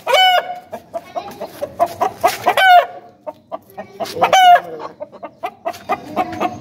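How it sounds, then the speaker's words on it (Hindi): A rooster crows loudly twice amid steady, close clucking from hens, with no talking. "मुर्गा जैसे पागल हो गया देख के।"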